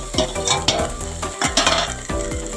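Potato, eggplant and onion chorchori sizzles in a pan while a utensil scrapes and stirs it in repeated strokes, close and fairly loud, with no talking.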